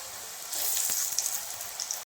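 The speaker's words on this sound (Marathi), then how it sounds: "आणि मिडियम गॅसवर छान खरपूस या पुऱ्या आपल्या तळून घ्यायच्या" Jeera papdi puris frying in hot oil over a medium gas flame, giving a steady, dense sizzle with light crackles that runs evenly for about two seconds and then cuts off abruptly. No one speaks.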